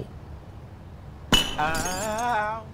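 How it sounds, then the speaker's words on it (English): Glass breaking in the horror game The Classrooms: a sudden loud shatter after quiet room tone, followed by a couple of seconds of ringing, tinkling shards. "need to break the glass. Hope nobody hears this."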